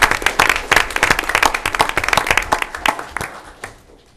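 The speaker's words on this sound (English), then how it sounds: "Let's give a big round of applause." A board meeting audience bursts into lively applause for a Texas library administrator of the year, dense close hand claps that build quickly and then taper off toward the end.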